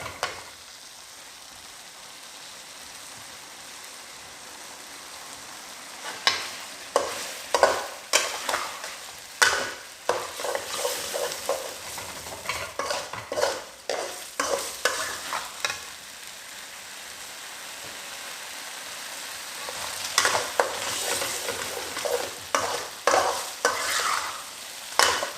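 Vegetables are stir-fried over high heat with a continuous sizzle and bursts of vigorous stirring, the spatula scraping and clattering loudly in the pan at close range.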